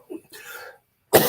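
A single sharp cough bursts out loudly near the end, after a stretch of quiet breathy sounds and silence.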